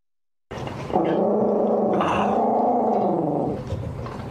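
A puppy growls continuously for about four seconds, a close, rumbling snarl that rises slightly in the middle before easing off, with no talking over it.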